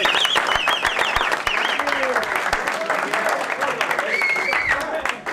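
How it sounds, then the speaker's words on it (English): U.S. Soccer players clap after the coach's speech, a burst of many hands clapping, while voices whoop and call out over it close by. "you guys should be applauded"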